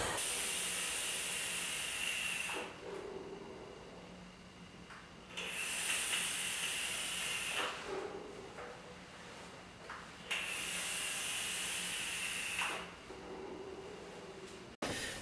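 Repeated vapour hiss from vaping on an Ud Goblin Mini atomizer, three long close-up draws of steady airy hissing separated by short quieter pauses.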